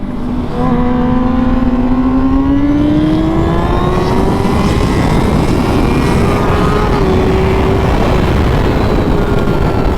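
A 2021 Honda CBR1000RR-R Fireblade SP in stock form races a Yamaha R1M, the engines' loud, high-revving drone climbing steadily in pitch as they accelerate, rising and sustained up close throughout with no talking.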